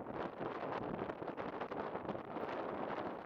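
Wind gusting across an outdoor golf practice range, a dense, steady roar of buffeting against the microphone that stays loud and unbroken throughout, with no voices.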